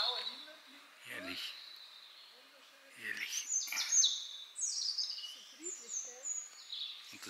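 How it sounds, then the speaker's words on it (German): Birds chirp and sing outdoors on a sunny day: quick, bright, high-pitched tweets and sweeping calls that build in the second half, fairly close and clear, with faint voices murmuring in the background. "Vögel zwitschern."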